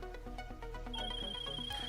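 A phone ringing with an incoming call from Martin in GTA Online, an electronic ringtone melody of repeated tones, clear and steady, over quiet game background sound.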